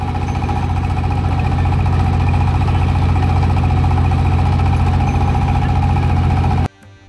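A motor boat crossing the Padma River near Rajshahi runs with a loud, steady engine drone and a constant low throb, close by and alone, cutting off abruptly near the end.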